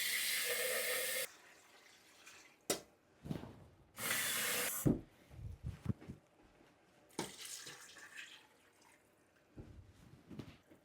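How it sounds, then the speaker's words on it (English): Water runs from a tap into a pan to cover chicken for homemade stock, coming in a few loud gushing bursts separated by quieter clunks and handling noises. "I'm going to add enough water to kind of fill to maybe about this far up to the bottom of the pan."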